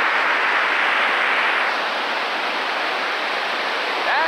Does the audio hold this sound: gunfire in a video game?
no